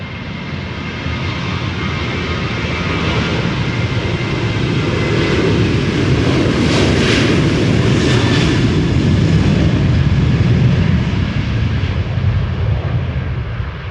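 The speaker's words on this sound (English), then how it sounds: "Ryanair going to Dublin, flight 421 737-800" Ryanair Boeing 737-800 taking off from Amsterdam Schiphol toward Dublin, a loud continuous jet roar that builds and peaks midway and stays strong to the end, with no voices.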